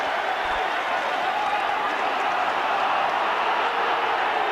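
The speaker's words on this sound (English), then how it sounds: "Well, the crowd don't like it." A stadium crowd at a 1997 Wigan versus Bradford rugby league match reacts to an offside call with a sustained, broad roar of disapproval that holds steady and fairly loud throughout.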